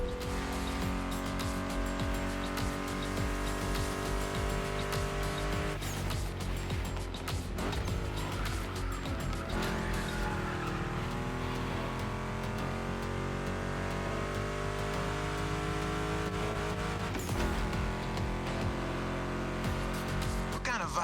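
A Ford Mustang GT muscle car engine drones steadily while driving in The Crew Motorfest video game, mixed under loud music with sustained tones throughout.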